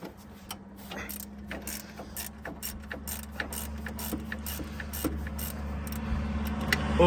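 Spanner clicking and scraping against the starter motor bolts of a Triumph Spitfire, with repeated sharp metallic ratchet ticks over a steady low hum, close and moderately loud, without talk.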